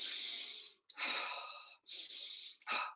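Slow deep breaths taken close by during a relaxation exercise, each a long airy inhale or exhale, about four in three seconds with brief pauses between, no talking.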